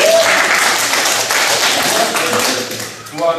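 Applause from a seated lecture audience, a dense wash of clapping that runs steadily for a few seconds and then thins out at the end.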